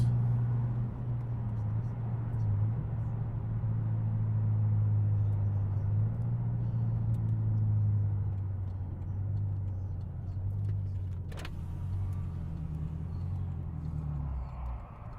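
BMW M6 engine and exhaust while cruising, a steady low droning rumble heard from inside the car at moderate volume, with a faint brief click partway through.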